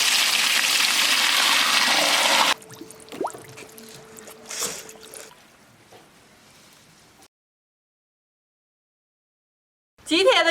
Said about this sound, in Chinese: 倒点冷开水